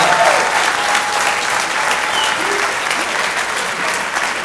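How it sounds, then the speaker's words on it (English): Loud, dense applause from an audience at a 2018 Gateway to College graduation ceremony, a steady wash of clapping for the graduating students that holds evenly throughout. "so give them a round of applause"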